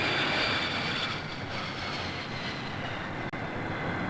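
Airplane flying overhead above a backyard cookout, a steady broad engine roar filling the whole stretch, loud and continuous with no voices.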